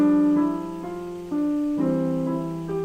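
Piano notes played in pairs of thirds step upward at a steady moderate pace, each dyad ringing briefly before the next, clear and close with no talking.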